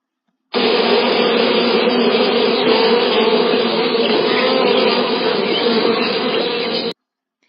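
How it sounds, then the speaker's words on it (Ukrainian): Bees flying to their hive in a village buzz loudly and continuously, a dense droning hum that holds steady from start to finish, close and without pauses. "А ще почула, як гудуть бджоли, що летять до вулика"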